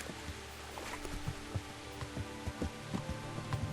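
Steady rain in the video game Kingdom Come: Deliverance, a dense hiss of falling drops with scattered soft patters and taps, faint and continuous throughout with no talking.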